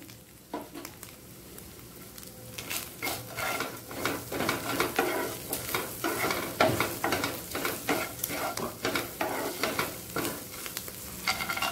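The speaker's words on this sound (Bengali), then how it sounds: "আদা বাটাটা দিয়ে ভালো করে মিশিয়ে নেব।" Sabudana upma frying in a pan as ginger paste is mixed in, a busy run of spoon scrapes and stirring strokes over a light sizzle, close and rhythmic, no talk.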